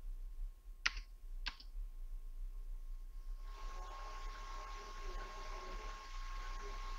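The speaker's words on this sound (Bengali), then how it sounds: "প্রথমে ইউজার আইডি টাইপ করতে হবে।" Two sharp keystrokes ring out near the start, then a steady soft patter of rapid typing on a computer keyboard continues close by in a quiet room.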